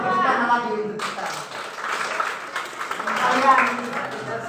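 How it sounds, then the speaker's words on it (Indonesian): Primary school pupils clap their hands together in a classroom, a dense burst of clapping starting about a second in and continuing under a teacher's voice and children's chatter. "Tepuk tangan lagi untuk kita."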